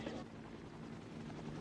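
A helicopter drones steadily with a low rotor rumble and a sustained hum, with faint voices mixed in beneath the engine noise.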